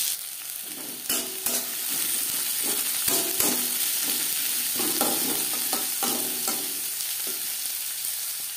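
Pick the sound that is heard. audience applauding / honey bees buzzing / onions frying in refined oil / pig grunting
onions frying in refined oil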